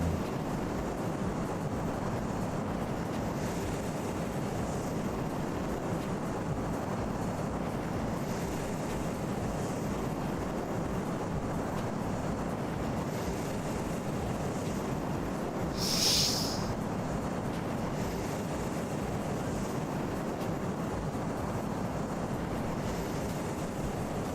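Steady broadband roar of Boeing 747 engines and cabin air at cruising altitude around 35,000 feet, continuous and unchanging throughout, with one brief sharp hiss partway through.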